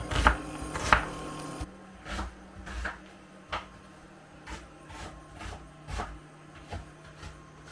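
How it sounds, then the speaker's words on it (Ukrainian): A knife chops onion on a board in a steady series of sharp taps, a few louder knocks at the start, then regular cuts. "нарізаємо цибулю на засмажку до будь-якої страви"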